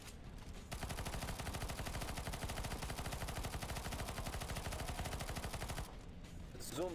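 Rapid continuous automatic gunfire shooting at a boss in a video game, a dense, steady stream of shots lasting several seconds, then stopping abruptly with a short game effect at the end.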